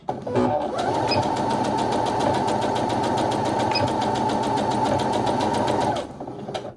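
A sewing machine runs steadily for about six seconds at a continuous fast rhythm, sewing a quarter-inch seam on a fabric soup bowl cozy, then stops abruptly. It is close and loud, with no talking.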